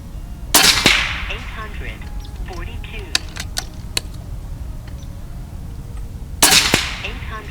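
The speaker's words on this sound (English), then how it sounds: "we're going to shoot 5 rounds of the Air Velocity Sport, sizing 217, 22 grain, cup base hollow point" A JSAR Hawk air rifle fires .22 cup-base hollow point pellets, two sharp loud cracks several seconds apart with faint clicks and metallic handling sounds in between.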